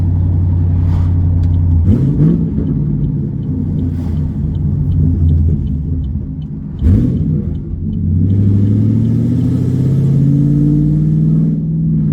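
A straight-piped Chevrolet Camaro engine rumbles deep and loud, swelling into two sharp revving accelerations before settling back into a heavy idle-like drone.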